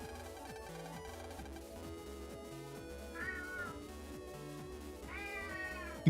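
A pet cat meows twice, drawn-out rising calls set against steady looping game music in the background.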